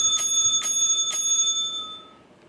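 A bright bell sound played from a phone app chimes three times in quick, even succession, clear and close, then its ringing tone fades away.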